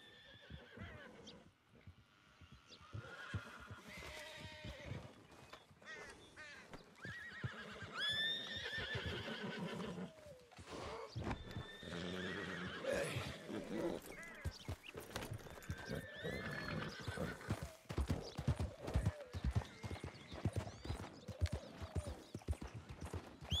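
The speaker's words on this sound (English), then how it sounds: "There's a nice looking little horse here." Horse in the video game Red Dead Redemption 2 neighs and whinnies as hooves clop steadily throughout, with a dense mix of game sounds that stays fairly quiet overall.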